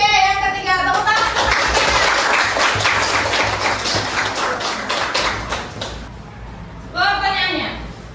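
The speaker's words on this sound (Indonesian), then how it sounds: "Tepuk tangan." Children in a classroom clap together in a steady burst of applause lasting several seconds, loud and close, with a teacher's voice speaking just before and again right after.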